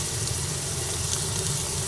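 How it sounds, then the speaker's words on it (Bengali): Onion and garlic frying in hot oil alongside bay leaf and whole garam masala, a steady close hiss of sizzling that holds evenly without pause or voices. "পেঁয়াজ আর রসুন আগে ভাজা হবে কিছুটা ভাজা হয়ে যাবে"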